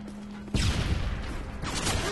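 A loud, sudden burst of gunfire breaks out in the Modern Warfare 3 video game and carries on as continuous shooting for the rest of the short moment.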